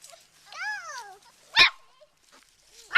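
A boxer puppy gives a short, rising-and-falling whine, then a sharp yip, followed by another brief yelp at the end, close by with quiet gaps between.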